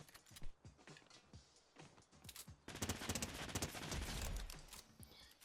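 Gunfire in the Fortnite video game, sharp individual shots and bursts with mechanical clicks, building to a denser rapid volley in the second half, moderately loud and free of speech.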